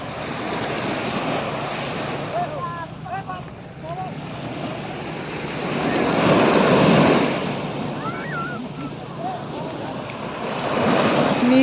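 Surf rolls in at Kakinada beach in the rain, a steady broadband roar that swells around the middle and again at the end, with wind buffeting the microphone and faint distant voices.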